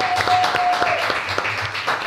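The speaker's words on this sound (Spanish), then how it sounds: "este aplauso es para el gobernador de la provincia de Buenos Aires" Applause for the governor of Buenos Aires province, Axel Kicillof, in a studio: a steady, dense patter of clapping through the whole stretch, with some voices mixed in.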